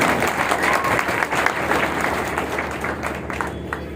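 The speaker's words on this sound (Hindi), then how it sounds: "एक बार आपके लिए दिल से जोरदार ताली होनी चाहिए।" A seated audience in a hall breaks into hearty applause honouring a guest, steady dense clapping with a murmur of crowd underneath.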